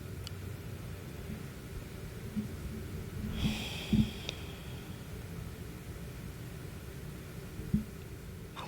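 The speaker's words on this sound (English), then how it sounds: "I wonder if you can hear me breathing." Breathing very close to a microphone in a quiet room: one soft, airy breath or snort in the middle, with faint hiss and small noises around it.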